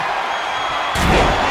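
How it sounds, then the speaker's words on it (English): In a wrestling video game, a body lands on the ring steps with a single heavy thud about a second in, a broad low impact over steady crowd-like background noise. "You heard the thud on the steps."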